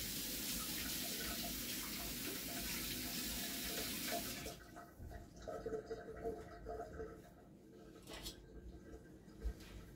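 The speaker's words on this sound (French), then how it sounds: "je vais laver un petit peu de concombre" A kitchen tap runs in a strong, steady rush over a cucumber being washed for about four seconds, then shuts off, leaving faint drips, handling noises and light clatter nearby.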